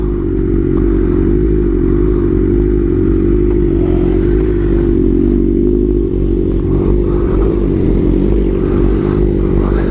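A Honda CBR1000RR-R Fireblade SP superbike engine runs steadily and loud from start to finish, its deep, continuous drone staying close with a rough, clattering edge and no speech.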